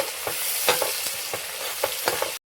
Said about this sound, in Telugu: ఫస్ట్ అదే ఆయిల్లోకి 4 పెద్ద సైజు ఉల్లిగడ్డలు, 2 సన్నగా కట్ చేసుకున్న ఉల్లిపాయ ముక్కలండి.